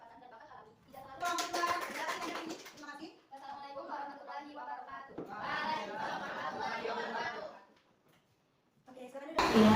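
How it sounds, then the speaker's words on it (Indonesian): Children in a classroom clap their hands in scattered bursts mixed with lively chatter and some laughter, the clapping rising and falling in several waves before a short pause. "Tepuk tangan."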